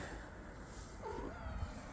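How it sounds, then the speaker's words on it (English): A cat gives a short, faint meow over a steady background hiss. "Kitty!"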